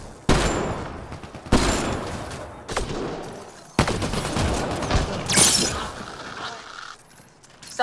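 Gunfire from a firefight in the video game Mass Effect Andromeda: several loud, sharp bursts and volleys of shots with clattering impacts, separated by brief gaps, with a faint voice underneath.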